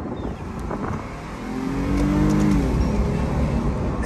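A Lexus IS250 C hard-top convertible's engine revs up under acceleration, the tone rising and swelling louder toward the middle and holding strong, heard close with no talk.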